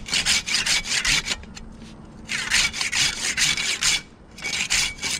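A handsaw rasps through wood while a tree is being taken down, its strokes steady, rhythmic and loud, with brief pauses between runs of cutting and no talk.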